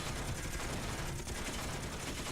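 Dense, continuous automatic gunfire from a ship's weapons in Space Engineers, tearing apart part of a spacecraft; a steady, loud barrage with no pauses.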